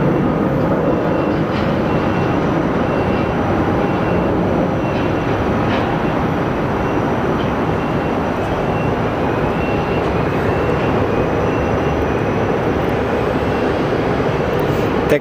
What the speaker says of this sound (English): we do have our Delta A350 pushing out